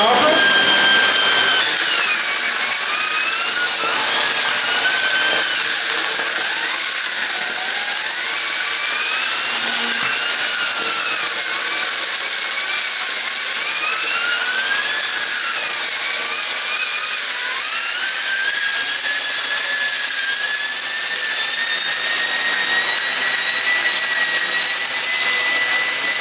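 A Bosch Series 2 bagged vacuum cleaner runs continuously on a bare floor, a loud steady whining drone with pitch wavering as the nozzle moves, close up throughout.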